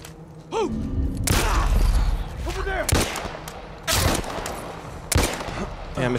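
Gunfire in The Last of Us Part I video game: several loud, sharp shots in irregular succession amid a busy game soundscape, with a voice talking under the action.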